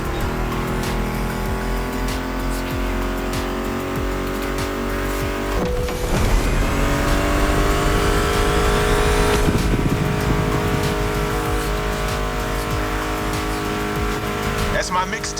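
Muscle car engines roaring during a race in The Crew Motorfest, a steady loud drone with revving and tire squeal building around the middle, under an 80s-style soundtrack and occasional game voice talk.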